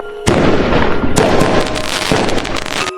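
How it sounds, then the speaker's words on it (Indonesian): Fireworks crackle and pop in loud, rapid bursts, with dense sparkling crackles overlapping in two or three waves. "Wah, ada kembang api. Indah banget."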